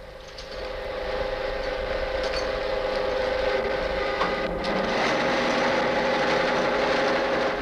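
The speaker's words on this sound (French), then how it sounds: "Il verrait avec quelle aisance le bras de la machine se met en position d'attaque exactement au niveau" A coal mining machine's arm moving into position, giving a continuous mechanical hum and whine with a few clanks and knocks layered over it.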